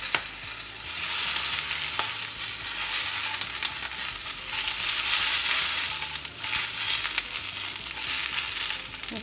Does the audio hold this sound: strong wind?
no